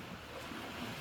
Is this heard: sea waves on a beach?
yes